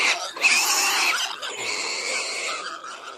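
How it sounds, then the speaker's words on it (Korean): A pig snorting and grunting close up, a rough nasal burst followed by a longer run of snuffling snorts, loud and clear with no talk over it. "그때 돼지 한 마리가 코를 씩씩거리며 나타났어요"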